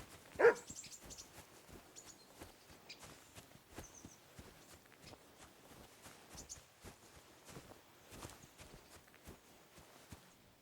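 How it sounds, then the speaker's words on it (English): A dog barks once in a video game, a short sharp bark early on, followed by quiet game ambience with soft footstep-like taps and faint clicks. "Barking."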